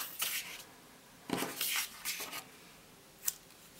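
Scissors cutting planner paper in half: a few crisp snips and paper rustles at close range, quiet, with no talking.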